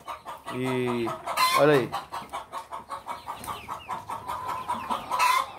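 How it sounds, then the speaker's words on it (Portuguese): Free-range chickens in a small backyard flock cluck and squawk nearby, with a few loud bursts followed by a steady run of softer clucks, while someone speaks briefly over them. "Isso é a minha pequena criaçãozinha de galinha caipira"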